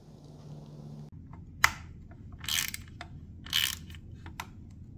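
Mini ratcheting wrench giving a few sharp metallic clicks and rattles close up, scattered bursts over a low steady background hum.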